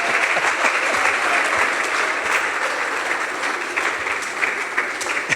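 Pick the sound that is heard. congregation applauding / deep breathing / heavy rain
congregation applauding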